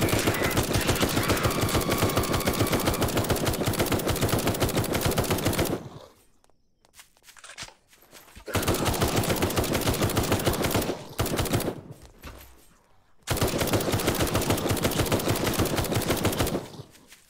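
Sustained bursts of rapid automatic gunfire in the video game Night of the Dead, loud and dense, broken by two short pauses of quieter rattling before firing resumes.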